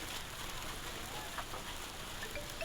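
Light to moderate rain falls steadily during a stormy spell in Uttar Pradesh, a continuous hiss of drops on surfaces with scattered patters, and no voices.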